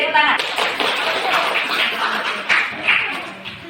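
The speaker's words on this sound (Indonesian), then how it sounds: "Oke, tepuk tangan." Students in a classroom clap together in a quick, fairly close burst, with chatter and a little laughter mixed under and around the clapping.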